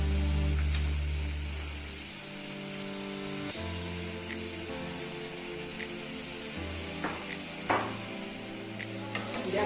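Lentil fritters for a mugeswari patol (pointed gourd) dish sizzle and fry in a pan, a steady close crackle with intermittent stirring scrapes and no voices.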